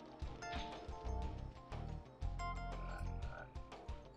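Frog croaks in Spyro the Dragon, a steady run of low, throaty calls over game music, loud and close with no talk.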